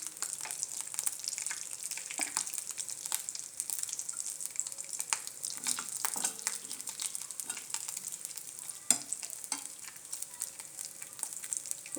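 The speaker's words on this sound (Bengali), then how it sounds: "কড়াইতে তেল দিয়ে নিয়েছি, তো এখন দিয়ে দেব কটা জিরে।" Cumin seeds sizzle in hot oil in a wok, a faint, crackly hiss dotted with small pops and light clicks, steady throughout with no voices.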